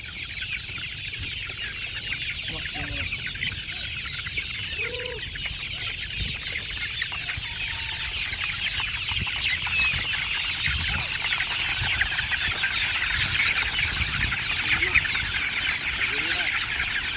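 A flock of chicks about one month and twenty days old chirps and clucks continuously, a dense, lively chorus of high peeps that grows slightly louder toward the end.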